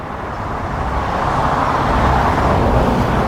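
Steady road traffic on Alfreton Road, with a car passing nearby as a broad, smooth rushing swell that grows slightly louder toward the end.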